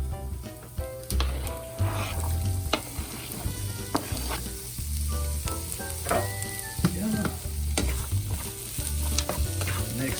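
Okra tossed into a frying pan with browned onion and rosemary sizzles steadily, stirred and scraped repeatedly, with bursts of clattering from the spoon against the pan.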